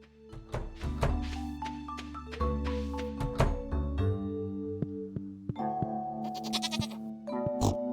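Sheep bleating in the farming game Stardew Valley, several short bleats over light game music with chiming tones, fairly close and clear.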